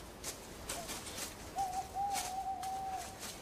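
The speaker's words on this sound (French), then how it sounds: "Ça devait être un oiseau, je pense." A single bird, likely an owl, hoots in a cold, eerie outdoor setting, giving a faint short note and then a longer, sustained, wavering hoot amid soft background rustle.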